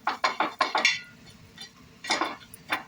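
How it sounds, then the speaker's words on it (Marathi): Khoa made from full-fat milk is roasted on a griddle, heard as a quick run of five or six sharp scraping clinks of a utensil against the pan, a brief pause, then a few more close strokes. "मी खवा आता हा भाजून घ्यायला लागले असा तव्यावर, चांगला चॉकलेटी होईपर्यंत भाजून घ्यायचा"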